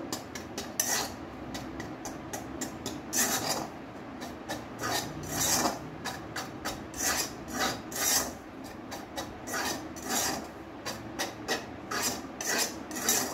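Bajra flour dough is stirred in a pan on a switched-off stove, a steady close rasping scrape of utensil against the pan bottom in continuous overlapping strokes, with no talk.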